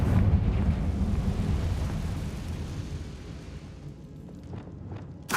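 Confringo fire spell exploding in the video game Hogwarts Legacy: a loud, rumbling low boom that decays slowly over several seconds, followed by a few brief high crackles and a sharp burst at the end.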